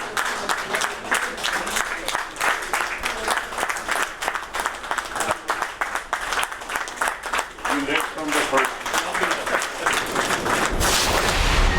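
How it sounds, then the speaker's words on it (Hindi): Cabinet members applaud the prime minister, a sustained burst of clapping from a room of people, steady and dense with uneven loud claps throughout. "काबीना अरकान की तालियां बजाकर वज़ीर आज़म को मुबारकबाद।"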